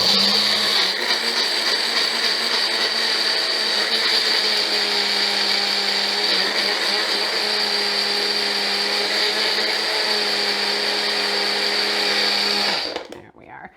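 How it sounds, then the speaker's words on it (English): A Magic Bullet grinding oats gives a loud, steady grinding whir continuously for about thirteen seconds, then cuts off abruptly as the motor stops. "So this is gonna get a little loud, but now I'm going to grind my oats"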